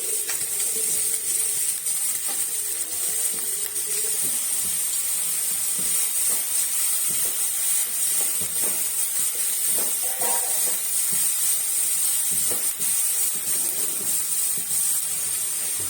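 Finely chopped large onion and sliced green chilies sizzle steadily in a hot pan, a loud continuous hiss and crackle held throughout with no break.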